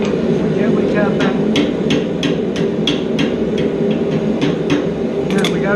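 A hand-forged sleigh bell with its ball dropped inside is tapped gently about a dozen times in a fairly even rhythm. The sharp, bright ticks sit over a constant loud workshop hum.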